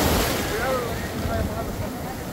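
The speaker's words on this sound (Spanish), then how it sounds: "Llega la ola." Ocean waves breaking on a beach, a steady loud wash of surf and wind noise, with faint background voices.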